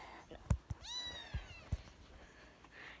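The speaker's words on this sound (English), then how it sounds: "It's our kitty." A pet cat lets out one drawn-out, rising then falling meow close by, with a few dull handling thumps around it in a quiet room.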